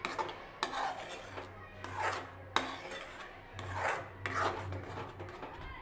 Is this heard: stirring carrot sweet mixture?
yes